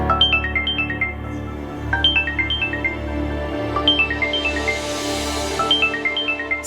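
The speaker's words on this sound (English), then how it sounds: "you have a phone call." A phone ringtone plays a repeating descending melodic phrase in several bursts, loud and clear over a low steady background hum, signalling an incoming call in an Indian drama scene; no talk is heard.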